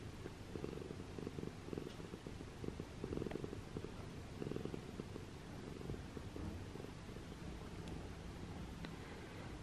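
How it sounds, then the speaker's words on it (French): Soft, close rumbling purr of a pet cat that is settling in to sleep, a low continuous rhythmic drone with slight pulses, faint and with no one talking over it. "Il ronronne comme un dingue."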